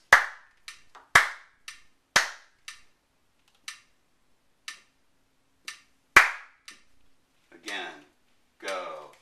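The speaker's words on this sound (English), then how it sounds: "Let's clap it" A few sharp hand claps land in a counted, stop-start rhythm, separated by silent rests, with a couple of softer, brushier sounds near the end.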